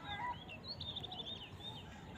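Small birds chirp and tweet in short high repeated calls during an outdoor hunt, fairly faint over steady background noise.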